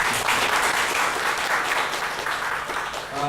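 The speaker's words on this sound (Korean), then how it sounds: "우리 김한별 팀장님께 다시 한번 박수 부탁드리겠습니다." A seminar audience applauds a team leader after her talk on election data journalism, a steady dense wash of many hands clapping that stays loud throughout with no voices over it.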